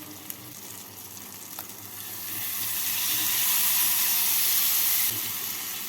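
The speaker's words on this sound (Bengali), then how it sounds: "পনির দিয়ে মশলার সাথে নাড়াচাড়া করে নিচ্ছি" Paneer and fried potato stirred with spices in a hot pan for a vegetarian paneer-potato dalna, giving a steady close sizzle and hiss that swells louder midway, with faint scraping and no talking.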